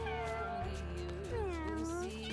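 A kitten meows in a video game, a long wavering cry with rising and falling pitch that carries over steady background music and game sounds.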